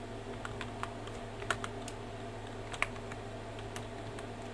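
Light clicks of a computer keyboard as a bind command is typed, scattered keystrokes at an uneven pace over a low steady hum, close but quiet.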